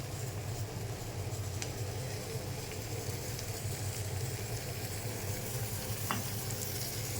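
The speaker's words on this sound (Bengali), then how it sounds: "আমার মাছ ভাজা এখন" Shrimp wrapped in banana leaf fry in a pan of oil with a steady, dense sizzle that stays even and close throughout, broken by a faint scrape or two. No one talks.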